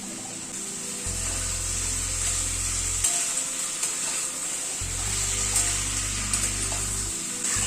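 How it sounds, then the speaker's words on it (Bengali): Tomatoes and mixed vegetables fry with spices in a pan, producing a loud, continuous sizzle with occasional clinks and scrapes of stirring and a low hum running underneath, with no voices. "টমেটোটাও অ্যাড করে দিচ্ছি এর সাথে।"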